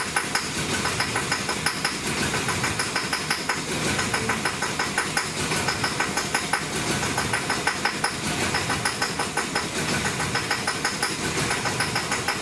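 A 2008 Chevy truck engine runs with its crankshaft position sensor unplugged, idling close up with a steady, rapid ticking pulse over a continuous broadband mechanical drone and no talking.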